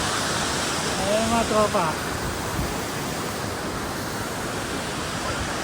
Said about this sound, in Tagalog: Ang ganda, di ba? First falls pa lang yan.